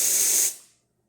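A freshly serviced Saeco QM67 Evo espresso machine's steam wand releases a strong, loud hissing burst for about half a second, then tapers off quickly into silence.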